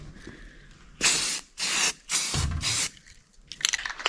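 Spray gun laying down a light first coat of paint: four distinct hissing bursts of about half a second each, close and fairly loud, separated by short pauses, with softer hiss afterward.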